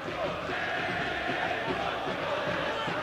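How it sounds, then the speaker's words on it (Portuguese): Football crowd stirring in the stands at the Bruno Daniel stadium during a 1994 Campeonato Paulista match between Santo André and Palmeiras, a steady distant roar and murmur of many voices with no sharp peaks. "Torcida se agita nas arquibancadas do Bruno Daniel."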